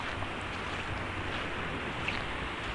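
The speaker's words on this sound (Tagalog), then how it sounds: "Naririnig yung medyo malakas-lakas ng alon." Fairly strong sea waves heard at night from a boat, a continuous faint wash of surf and water with wind noise across the microphone, no talking.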